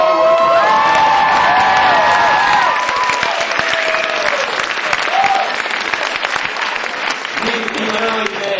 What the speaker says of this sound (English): let's all give a big round of applause for Mike Hurdy